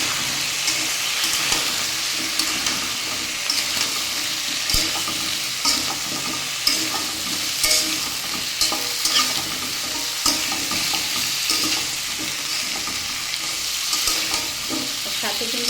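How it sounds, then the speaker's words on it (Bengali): Vegetables with salt and turmeric stirred in a frying pan for a vegetarian lentil-paste fritter dish, giving a steady close sizzle broken by repeated scraping and clacking of the spatula throughout. "এবারে নেড়ে চেড়ে মিশিয়ে দেবো।"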